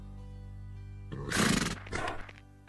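A wild horse on a ranch lets out a loud, close whinny that rises, breaks off, then gives a shorter second burst after a quiet lead-in, with no voices.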